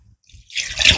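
Water splashes into a prawn masala curry with a brief close pour after a couple of faint taps, short and bright.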